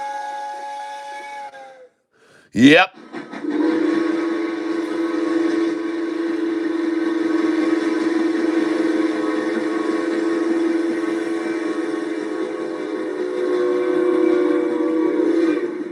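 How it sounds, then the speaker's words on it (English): Steam train whistle sounding from off in the distance, a long sustained hissing tone held for many seconds after a short spoken word and a brief sharp knock. "I think I hear the sound of a train."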